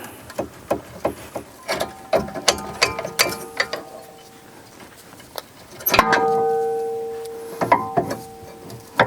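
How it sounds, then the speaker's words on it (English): A hand ratchet loosens the brake caliper bolts on a 2013-2017 Honda Accord, making close, crisp bursts of rapid clicking separated by a metallic scrape and a brief pause. "Then remove the caliper."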